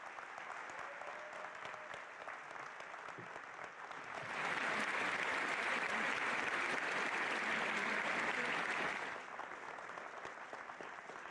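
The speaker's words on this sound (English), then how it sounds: "So please, let's give her a round of applause." Audience applause at a high school Memorial Day remembrance ceremony honoring a National Teacher of the Year, steady moderate clapping that swells louder in the middle and then eases back to a lighter patter.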